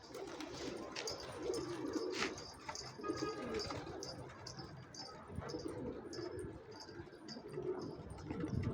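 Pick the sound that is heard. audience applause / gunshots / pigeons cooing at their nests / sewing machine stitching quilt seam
pigeons cooing at their nests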